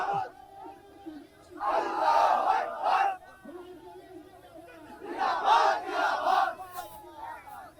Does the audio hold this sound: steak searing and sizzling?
no